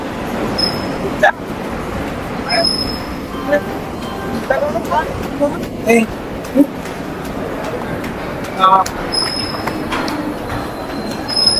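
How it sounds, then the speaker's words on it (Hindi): The Ajmer Puri Express pulling out of a platform at Nagpur station, a continuous rumble of rolling wheels with scattered clanks and squeals, while a person talks over it in a busy station. "20824 अजमेर पुरी एक्सप्रेस ये निकल चुके हैं नागपुर के प्लेटफॉर्म नंबर 3 से"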